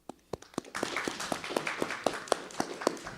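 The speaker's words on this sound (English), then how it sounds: "We applaud you." Audience at a school board meeting applauds with sparse, scattered claps that build into steady, moderately loud applause from a small room, individual hand claps still distinct throughout.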